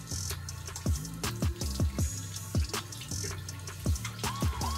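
Tap water runs into a bathroom sink while hands are rinsed, a steady close splash broken by repeated dripping plinks and small gurgles, with no voices.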